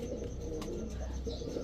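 Racer pigeons, a white-bodied male among them, coo softly in low, throaty murmurs at close range, with a faint scuffle or two.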